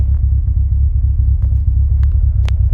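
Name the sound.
car engine idling after starting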